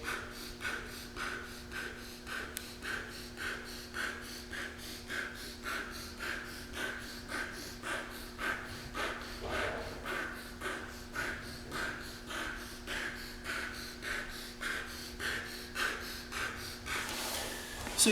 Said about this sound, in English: I'll just show you 1 rep burst breathing